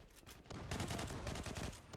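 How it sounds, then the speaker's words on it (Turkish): A grenade blast in the Zula online shooter lands amid game gunfire, a loud dense burst that rolls on for over a second after a quieter lead-in, with no voices. "Çok güzel bomba oldu"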